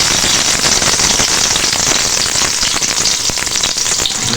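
Oil poured into a pan with onions while cooking khichuri, a loud, dense crackling sizzle that stays constant throughout, with no talk.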